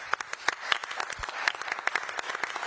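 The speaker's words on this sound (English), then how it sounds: "Would you give them applause?" Applause rises at a hybrid city council meeting, with scattered individual claps from a modest crowd in a chamber, brisk and moderately close for a few seconds.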